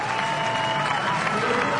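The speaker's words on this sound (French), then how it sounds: "Écoutez les applaudissements, écoutez le soutien de ce public" Spectators at a women's sprint triathlon race in Stockholm clap and cheer, a dense, steady wash of applause from a supportive crowd.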